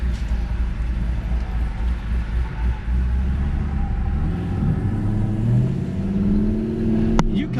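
A Pontiac G8 drives down a street, heard from inside as a steady low engine rumble with road noise and a brief rise in revs, and voices talking over it.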